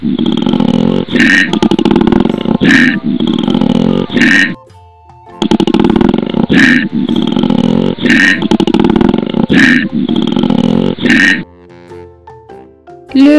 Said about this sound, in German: Koala.